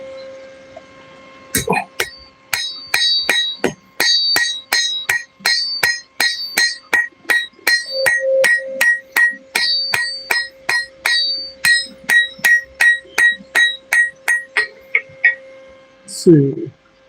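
A smith hammers hot metal at the forge: a long, steady run of about two dozen sharp, ringing strikes, close and loud, with a brief voice and a clatter near the end.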